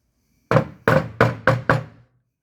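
Five sharp, evenly spaced hammer knocks on a washing machine part, struck close to the microphone, each ringing briefly before the next.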